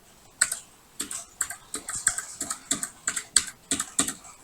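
Computer keyboard keys are pressed while working in a Jupyter notebook during a Python lesson, giving about a dozen crisp, close clicks in an uneven typing rhythm with no speech.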